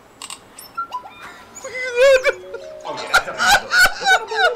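A person imitates an odd bird call with a string of warbling, honking whistles and trills in several bursts, starting fainter and growing louder and busier toward the end.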